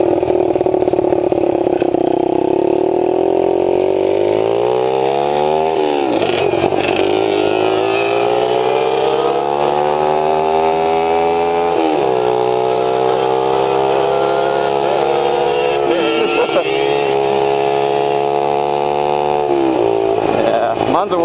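Two dirt bikes, a 125 and a KX60 pit bike, run close by with a loud, continuous buzzing drone as their revs climb, dip and climb again over and over.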